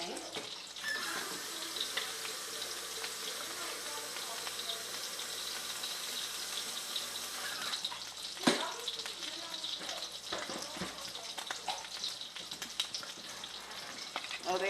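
Tap water running steadily into a kettle in a home kitchen, a continuous hiss and splash that lasts throughout, with faint background voices and a few clunks.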